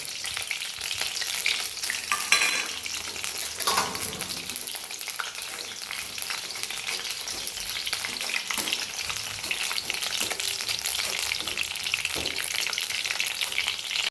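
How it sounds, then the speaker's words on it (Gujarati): Chillies frying in hot oil, a dense continuous sizzle and crackle close by with occasional stirring clatter, no talk. "હવે આપણે ફ્રાય કરીશું મરચાં"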